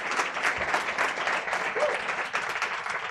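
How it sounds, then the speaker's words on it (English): Audience at a startup night event in The Hague breaking into a sustained round of applause, dense steady clapping filling the room from start to finish. "Please give yourselves a round of applause."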